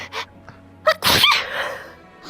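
A single sharp sneeze bursts out close to the microphone, preceded by a couple of short breathy sounds, then trails off into quiet room noise.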